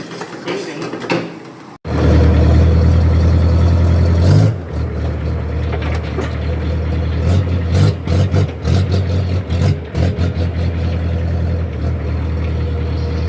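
A tractor engine runs close by, a loud steady low rumble that rises sharply after a brief quiet moment, then settles into a rough idle with uneven knocks and clatter.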